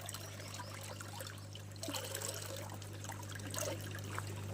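Water overflows in a fish breeding tank filter setup, making a soft continuous trickle and light splashing at close range over a steady low electrical hum.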